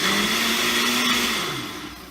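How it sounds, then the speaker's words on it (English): An upside-down blender with its blades in the lid whirs steadily while blending pineapple into BBQ sauce, a loud close motor drone that dips in pitch near the end and fades slightly. "That's an interesting blender."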